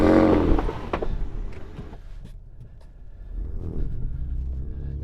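A Ford Ranger Raptor with a Ford Performance tune churns at full throttle through deep snow, its engine a low, steady rumble that is loudest at first, dips midway, then swells again, with no talk over it.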